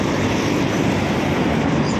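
A Manila MRT train rolls past in a dense, steady roar of rail and traffic noise that holds at a constant loud level from start to finish, with no voices.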